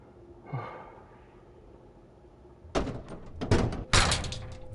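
A door in the Five Nights at Freddy's Sister Location horror game clunks shut three times in quick succession, each a sharp, close, loud impact, after a stretch of quiet low ambience with a faint thump.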